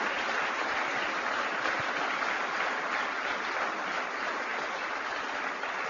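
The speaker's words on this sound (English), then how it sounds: "Give Corey a big round of applause" A rally audience claps steadily for Corey Lewandowski at an Indiana political event, a dense, even wash of applause that holds through the whole stretch without pause.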